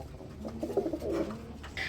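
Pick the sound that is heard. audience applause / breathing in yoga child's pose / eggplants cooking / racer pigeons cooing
racer pigeons cooing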